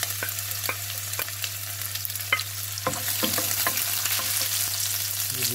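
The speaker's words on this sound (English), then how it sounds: "Give it a stir." Squid cafreal with green chillies fries in a pan under a steady sizzle, while a spoon stirs with scattered scraping clicks against the pan over a low constant hum.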